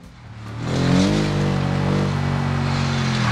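A damaged car in the BeamNG video game accelerates, its engine note climbing and then holding a loud, steady rising drone as it keeps driving.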